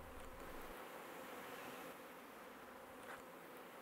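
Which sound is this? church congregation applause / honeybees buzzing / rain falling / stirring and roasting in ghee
honeybees buzzing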